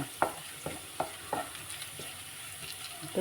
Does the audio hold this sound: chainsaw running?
no